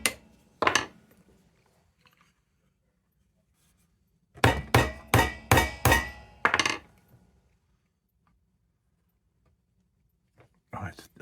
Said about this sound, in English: I'm going to put this on here, hit it with a hammer.